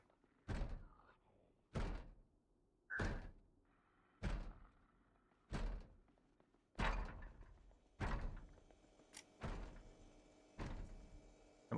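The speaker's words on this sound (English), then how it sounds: "Now they're beating on this door." Zombies beat on a door in a survival video game, about nine heavy thuds landing at a steady pace of roughly one per second, each loud and booming, with no speech.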